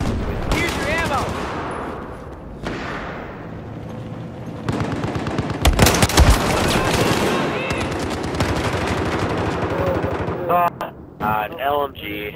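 Light machine gun fire from the shooter game Battlefield 4 crackles in long, rapid bursts with sharp gunshots and booming blasts. Players talk over the loud, dense gunfire.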